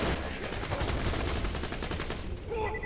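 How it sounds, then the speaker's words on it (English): Rapid gunfire from a Borderlands 2 video game fight, a dense, continuous stream of shots running loud through the whole stretch without pause. "Shoot him up a little bit."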